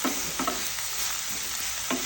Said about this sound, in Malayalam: ക്യാപ്സിക്കം നമുക്കൊന്ന് ചെറുതായി വാട്ടി വെക്കാം എണ്ണയിൽ